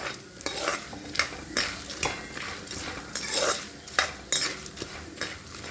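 Peanuts and roasted gram are fried in oil with turmeric over a low gas flame, a spoon scraping and stirring in quick rhythmic strokes over a soft, steady sizzle, close and without voices.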